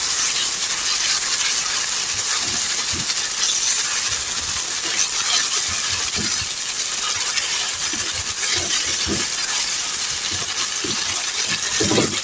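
Fried onion, garlic, chili, salt and tomato stirred in a pan for tilapia fish bhorta: a constant close sizzle, broken by scattered scrapes and taps of the spatula against the pan.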